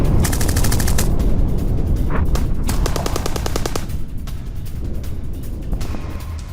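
Israel Defense Forces gunfire aimed at a Hezbollah post in southern Lebanon, loud, sustained bursts of rapid automatic fire rattling almost continuously, with short pauses between volleys and no voices.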